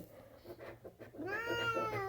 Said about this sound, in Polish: Trochę kot mi tutaj przeszkadza, muszę go trochę tutaj zrzucić.